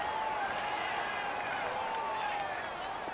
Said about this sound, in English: the crowd getting into it